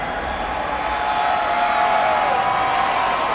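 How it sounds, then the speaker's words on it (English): Ole Miss supporters cheer at the Cotton Bowl in a stadium, a dense sustained roar of crowd noise that holds steady and loud throughout. "Ole Miss supporters, they got a lot to cheer about."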